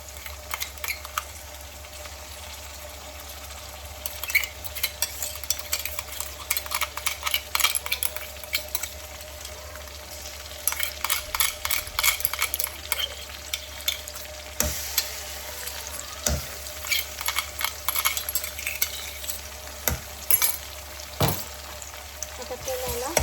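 A ground paste of green chili, garlic and coriander sautéing in a pan for palak bhaji, with a steady sizzle and bursts of rapid spatula stirring and scraping, close up.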